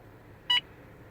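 A radar detector gives a single short electronic beep, a false alert on the K and X bands, with a quiet background before and after.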